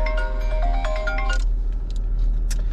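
A phone ringtone plays a bright electronic melody for a little over a second, then cuts off, leaving quiet room tone and faint clicks.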